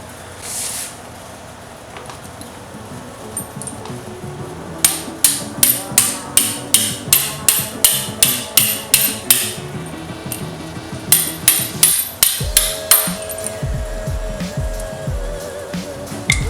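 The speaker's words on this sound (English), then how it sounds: "give it a few blows on the back of the bolt, the hammer" A hammer strikes the back of a bolt in a steady run of sharp, ringing blows to press out a pilot bearing, about twenty hits in quick rhythm, with a brief pause partway and a low hum underneath.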